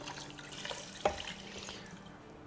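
Water being poured into a cooking pot of paya (trotters) in a home kitchen, a brief splashy pour with a short splash in the middle, fairly quiet.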